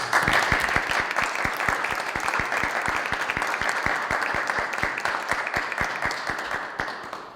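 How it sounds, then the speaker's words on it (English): Sustained applause from a school committee meeting audience, dense steady clapping at close range for about seven seconds, easing slightly toward the end with no talk over it. "Folks, if we could please have a round of applause"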